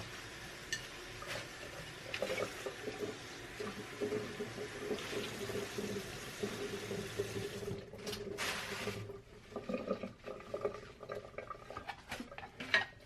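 Fresh parsley is rinsed under a running kitchen tap. Water splashes steadily into a sink, with clinks of dishes and a few sharp knocks near the end, and no one talks.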